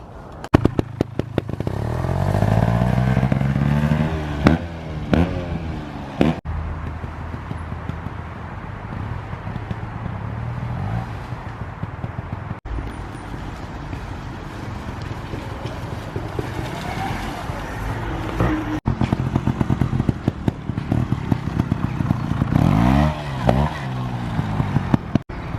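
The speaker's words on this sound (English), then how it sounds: "today I'm going to be filming James on the mini bikes and the trials bike" Kawasaki KLX110 minibike and a trials bike ridden around a garden, small single-cylinder engines revving up and dropping off repeatedly, rising whines and sputtering idles at moderate distance with occasional clattering knocks.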